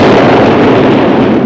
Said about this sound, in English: Explosion! No doubt about it.